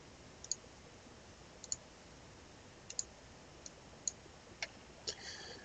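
Sharp computer mouse clicks in a quiet room while using backup software, about seven isolated clicks spaced roughly a second apart, close and clear against faint background hiss.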